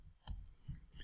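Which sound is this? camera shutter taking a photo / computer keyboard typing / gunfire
computer keyboard typing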